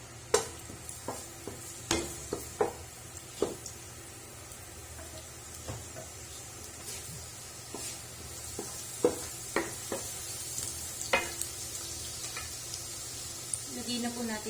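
Garlic sizzles in hot oil in a home kitchen as a Filipino ground beef dish gets started: a low steady sizzle runs throughout, broken by sharp scraping stirs and clinks of a utensil against the pan, with talk over it.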